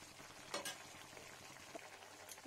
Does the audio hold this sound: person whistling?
no